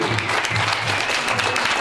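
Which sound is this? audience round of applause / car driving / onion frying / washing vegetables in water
audience round of applause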